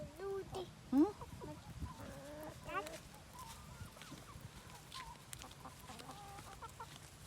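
Retired laying hens cluck inside a chicken coop, a few brief calls rising over steady low background noise, with a voice heard faintly now and then.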